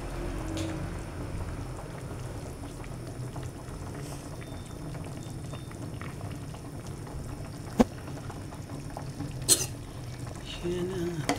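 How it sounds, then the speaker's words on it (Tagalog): Cabbage soup boiling in a home kitchen pot, giving a steady low bubbling simmer throughout, with a couple of brief clinks near the end. "Talalagay lang kasi ng repolyo, kaya ayan, kulo na siya."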